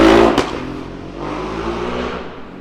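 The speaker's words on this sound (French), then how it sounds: "Je déteste tous ces beaufs qui font ça avec leur moto" A motorcycle revving loudly: a steady, loud engine roar with one sharp spike early on, settling into a sustained rumble that eases slightly toward the end.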